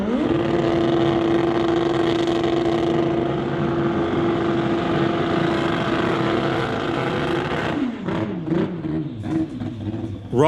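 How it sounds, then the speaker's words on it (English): A 2018 Suzuki drag bike doing a burnout at a drag strip, a loud sustained engine roar held steady, then dropping and revving in bursts near the end. "Rob Aston murdering the back tire on the 2018 Suzuki"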